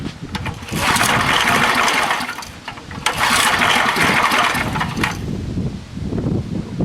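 An old 1990s Craftsman 2400-watt generator cranks and catches twice, each time running loudly for a couple of seconds before faltering, with mechanical rattles between attempts and no talking.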